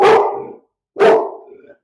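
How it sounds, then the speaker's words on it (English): A dog at home barks twice, two loud, close barks about a second apart with a short silence between them. "And the dog is joining in, of course, because someone just arrived home."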